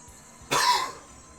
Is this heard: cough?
yes